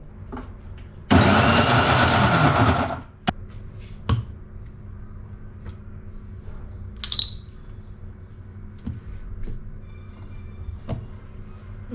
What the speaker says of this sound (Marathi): आता ते मी मिक्सरमधनं काढते आहे